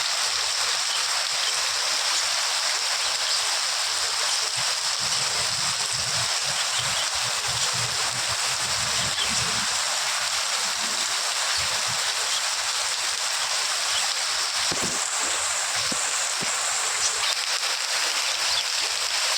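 Heavy rain pours outdoors over a flooded courtyard where the water stands near knee height. A steady, dense hiss of rainfall and running water continues throughout without a break.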